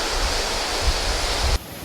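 Ton Na Phi waterfall, a natural headwater stream in Thailand, gives a loud, steady, close rush of falling water that drops off abruptly near the end.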